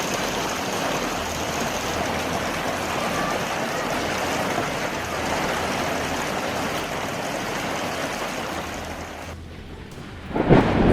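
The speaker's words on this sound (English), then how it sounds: "A storm sweeps across Central Florida, hail and strong winds wreck gardens" A violent storm with hail and strong winds over Central Florida roars as a dense, steady wash of pounding rain and gusting wind, briefly easing near the end before a sharp loud burst.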